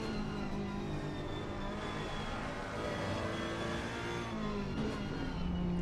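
On-board race car engine from Assetto Corsa Competizione at the Hungaroring, a steady loud drone with shifting pitch running continuously and alone, no voices.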